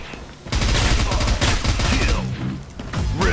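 Rapid gunfire in the shooter game F.E.A.R. Online: dense, continuous bursts of automatic shots fill the clip, loud and close, with a brief quieter lead-in.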